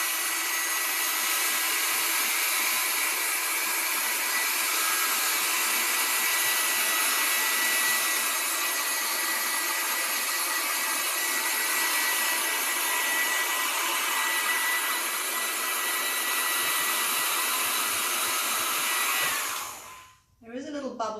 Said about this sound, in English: So let's just go over with my hairdryer